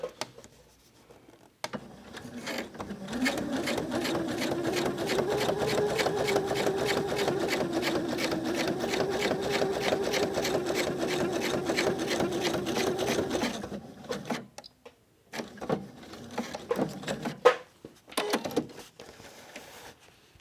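A sewing machine stitches through paper, a steady close whirring rattle of the needle for about twelve seconds, then stopping into quieter handling clicks and rustles of the paper.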